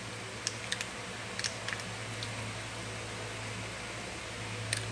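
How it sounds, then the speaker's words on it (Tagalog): An electric fan runs steadily at home, a constant airy whir with a low hum throughout, broken by a few faint clicks like keys being tapped. "Sorry, malakas ba yung noise? Naka-electric fan kasi ako."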